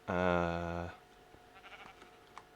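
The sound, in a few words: sheep bleating in a video game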